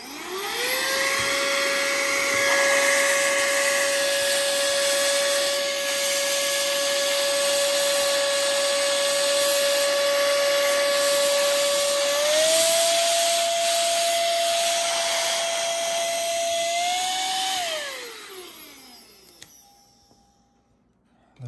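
A rechargeable cordless compressed-air duster blows dust off a keyboard. Its motor whines loudly and steadily for a long stretch, steps up slightly in pitch partway through, then spins down and fades out.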